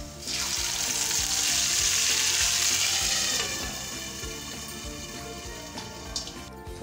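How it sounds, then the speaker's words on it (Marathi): Ground peanut paste is added to a hot tempering of oil and spices for chutney, bursting into a loud, hissing sizzle that gradually settles into softer crackling and bubbling, close up, with no speech. "आता हे शेंगदाण्याचे वाटण फोडणीमध्ये घालू"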